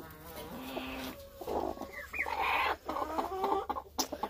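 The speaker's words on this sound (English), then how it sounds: "We're trying to hatch some eggs with this hen." A broody farm hen sitting on eggs to hatch them gives a string of soft, irregular clucks and low murmurs nearby, fairly quiet, with faint rustling around her.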